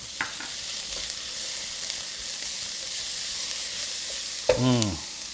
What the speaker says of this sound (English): I'm gonna add in our garlic puree